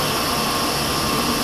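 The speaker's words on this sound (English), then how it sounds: "Switching clockwise to increase the speed of main motor" Main motor of an HBS 26EAS machine runs at a steady, loud broadband whir with a constant hum, heard alone and without pauses.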